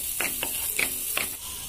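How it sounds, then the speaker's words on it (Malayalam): Sliced onion fries in oil in a pan while a utensil stirs it, producing four or five distinct scraping strokes over a constant background sizzle. "പിന്നെ ഒരു സവാളയാണ് ചേർത്ത് കൊടുക്കുന്നത്. ഇനി ഇതൊന്ന് ഇളക്കി കൊടുക്കാം."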